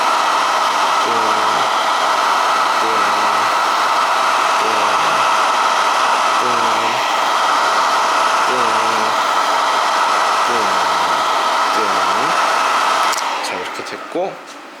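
A hair dryer used by a barber styling hair blows with a loud, steady whooshing roar close by, a voice speaking underneath, before it switches off and winds down at the end.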